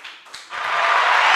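A crowd breaks into applause for Togik, the newest participant in the DPI Muda group, at a lively football-fan entertainment event. It starts thin and swells into steady, dense clapping that holds strong to the end.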